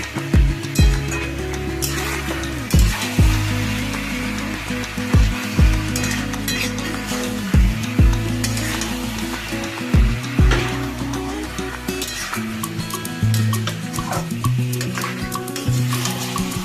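Mutton with ginger-garlic paste sizzles in a pan while being fried down, a steady close frying hiss punctuated by repeated spoon knocks and scrapes against the pot.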